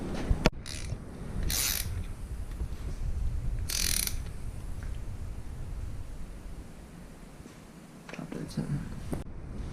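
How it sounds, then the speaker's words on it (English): Ratchet clicking while a spark plug is loosened from a Kawasaki KLX110L engine, quick bursts of ratcheting in a few short spurts over a steady low background, close by. "we're gonna remove the spark plug right now so it has no compression"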